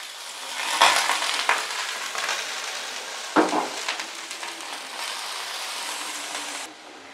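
Onion, green chilli and tomato are stirred and fried in a pan, making a moderate sizzle broken by a few sharp scraping and clattering stirs, close and without talk.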